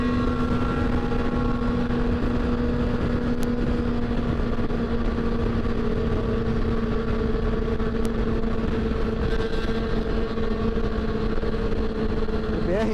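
Motorcycles including a Honda Hornet, Twister, BMW F-800 and Kawasaki ZX6 rumble steadily nearby at a biker gathering, a continuous engine drone with someone talking over it.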